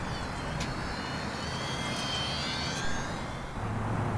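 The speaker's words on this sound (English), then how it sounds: "Here's a short takeoff." An E-Flite UMX Twin Otter model airplane takes off, its small twin electric motors giving a steady, fairly faint whine over broadband outdoor noise.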